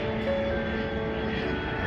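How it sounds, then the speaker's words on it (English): An airplane passes overhead above a landscaped garden, giving a steady, continuous engine drone with a faint tonal hum that holds at an even loudness throughout, with no talking. "Here comes the plane."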